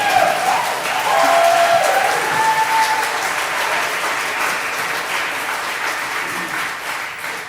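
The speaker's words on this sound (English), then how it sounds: "you can applaud now if you want." Congregation at a Unitarian Universalist church service in Houston breaks into warm, sustained applause, loud and full at first and then gradually tapering over several seconds.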